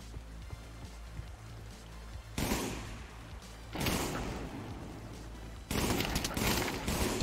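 Battle rifle gunfire in the VR shooter Pavlov, several loud bursts of sharp shots with booming tails, spaced a second or two apart over a low rumbling background.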